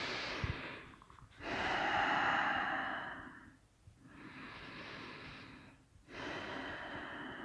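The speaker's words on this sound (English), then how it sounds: "let's breathe here" Slow, deep breaths during a yoga class, alternating long airy inhales and exhales with short pauses between them, close to the microphone and unaccompanied by talk.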